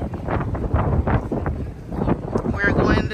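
Gusty wind at Maho Beach on an island buffets the microphone in loud, rumbling bursts, mixed with voices nearby.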